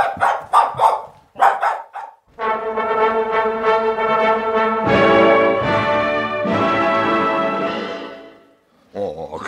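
A dog in an old French radio mystery drama gives a few short, sharp barks, then long, loud, drawn-out howling yelps close to the microphone, with no voices over it.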